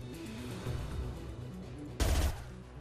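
Gunfire from a weapon in the video game Mass Effect 2, heard as a dense burst of rapid shots over tonal game music, with one loud, close blast near the end that rings out briefly.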